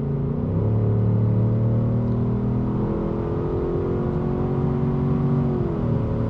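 Ford Mustang GT V8 with its exhaust in normal mode, a steady deep rumble and whir at moderate load, with the pitch shifting slightly as the revs change, close and continuous throughout and with no talk.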